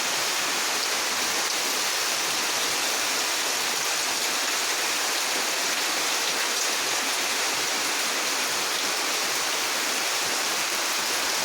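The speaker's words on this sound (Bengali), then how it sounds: "কি সুন্দর লাগছে বৃষ্টিটা" Heavy rain pours steadily onto trees and a pond, a dense, even roar of falling water that stays constant and loud throughout, with no voices.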